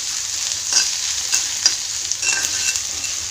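Crushed ginger and garlic fry in a pan over a low gas flame, making a steady close sizzle broken by a few soft stirring scrapes, with no voices.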